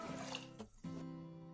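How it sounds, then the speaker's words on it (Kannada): Water pours into a pan of lentils already holding oil and turmeric for dal, a steady close liquid filling sound with a short break partway through. "1-2 ಗ್ಲಾಸ್ನಷ್ಟು ನೀರು ಹಾಕ್ಕೊಳ್ತಾ ಇದ್ದೀನಿ."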